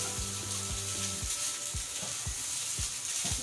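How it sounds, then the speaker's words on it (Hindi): Beef strips frying in a pan, a constant sizzling hiss with regular scraping strokes of a stirring spoon, close and free of talk. "बस हम ये चला चला के फ्राई करते हैं इसमें"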